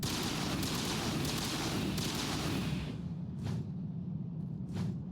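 Rapid gunfire in the Mass Effect video game, a dense roaring volley for about three seconds that cuts off, followed by a couple of isolated sharp shots in the quieter remainder, with no talking.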